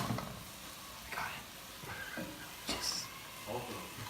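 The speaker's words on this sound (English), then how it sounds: "you kind of just want to stir it, not a lot, just lightly, so everything mixes together" Food lightly stirred in a pan, soft scraping strokes arriving in a few separate bursts over a faint background hiss.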